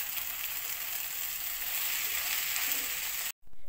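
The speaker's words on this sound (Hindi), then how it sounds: "अब नूडल्स डालेंगे। और अब इसे अच्छे से मिक्स करेंगे।" Noodles are stirred into vegetable spring roll filling in a hot pan, a steady bright sizzle with faint scraping throughout, cutting out abruptly at the end.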